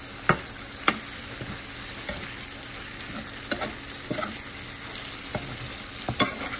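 Egg being stirred into sisig in a hot pan, with a constant loud sizzle broken by sharp spatula taps and scrapes at irregular intervals, close up and without talking.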